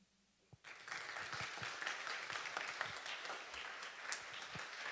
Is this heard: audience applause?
yes